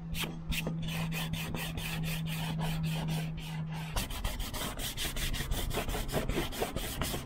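Steady rhythmic rasping of something being rubbed back and forth across a scratched wooden surface, repeated strokes close up with no talking, a low hum underneath during the first half.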